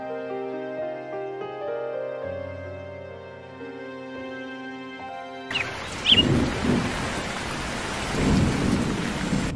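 A cartoon thunderstorm breaks in abruptly with a loud crack of thunder and steady heavy rain, following a stretch of music; no voices are heard.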